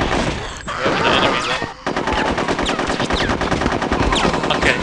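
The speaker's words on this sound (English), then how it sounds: "I guess it's a shot machine gun." Rapid machine gun fire from the video game Conker's Bad Fur Day, a dense sustained burst of loud shots with a brief gap early on, continuing steadily without talk.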